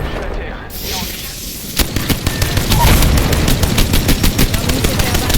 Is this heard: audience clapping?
no